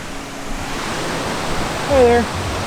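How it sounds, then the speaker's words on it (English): A waterfall beside an overgrown forest trail gives a steady, broad rushing roar throughout, with a brief whistled or voiced tone rising over it near the end. "That's a nice waterfall right there."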